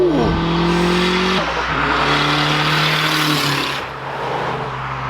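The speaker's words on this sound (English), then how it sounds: "This is nuts how quiet this exhaust is." Boosted K20 Honda Civic engine and exhaust running on a dyno, loud and close with rising revs that hold at a steady drone and then ease off, the exhaust note fairly subdued for the power.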